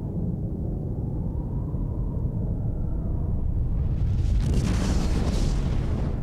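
A nuclear bomb explosion rendered as a continuous deep, rumbling roar that swells into a louder, hissing blast wave over the last couple of seconds, with no voices.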